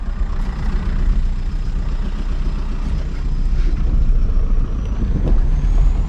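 A VW MK4 TDI wagon diesel drones steadily on the road, a loud continuous engine rumble mixed with road noise, rising slightly in the last seconds, with no speech.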